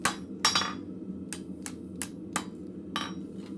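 Hammer blows strike metal on a blacksmith's anvil at a forge, flattening a small section; a few sharp ringing impacts land at uneven intervals, clear and close over a steady low shop rumble.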